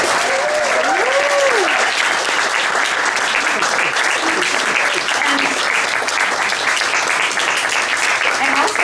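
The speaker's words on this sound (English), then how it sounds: "Can we have a quick hand for all of our performers tonight?" A bar crowd at a poetry celebration and book launch gives the performers loud, sustained applause, with a few whoops and cheering voices rising early on before the clapping carries evenly to the end.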